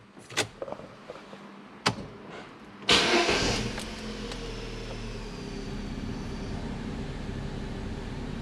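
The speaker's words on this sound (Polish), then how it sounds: "Idę odpalać samochód i zaraz zobaczymy, czy diagnoza i naprawa była właściwa" An Opel Zafira car engine being started after repair: a few faint clicks, then a sudden loud crank and catch at about three seconds, settling into a steady low idle hum.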